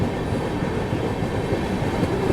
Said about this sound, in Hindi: देखिए भटनी रेलवे स्टेशन पे लिच्छवी एक्सप्रेस को लगाया जा रहा है।